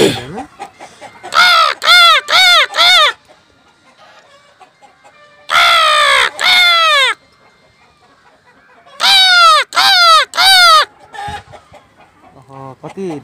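Several crows caw in three loud, close bursts of three or four harsh calls each, separated by quieter gaps with faint distant calls.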